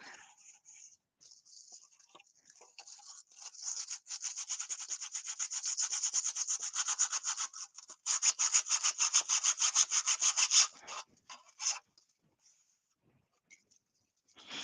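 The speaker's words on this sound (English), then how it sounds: "I'm not very good at sanding." Steady back-and-forth rasping strokes sanding a 3D print, fast and rhythmic, building in the middle and then trailing off into a few scattered rubs.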